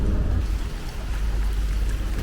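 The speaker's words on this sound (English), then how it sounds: "Oh no, it is really pouring rain here." Heavy pouring rain during a sudden rainstorm on a trip between Tallinn and Riga, a loud steady wash of drumming rain with deep rumbling underneath, no talking.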